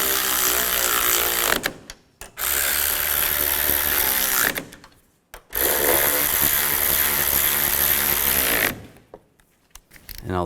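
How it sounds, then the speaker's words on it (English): A power tool, likely an impact wrench, tightens strut assembly bolts on a 2005-2010 Chevy Cobalt in three long loud whirring bursts separated by brief pauses. "Now we're going to tighten these down."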